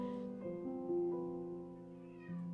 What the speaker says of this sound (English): Oh my gosh, that cat is loud.